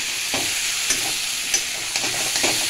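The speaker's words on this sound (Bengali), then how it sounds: "এবার আমি কষিয়ে নিচ্ছি কাঁকড়াটার সাথে ডুমুর।" Crab and figs sautéing in oil in a pan, a steady close sizzle broken by several spaced scraping stirs of a utensil against the pan.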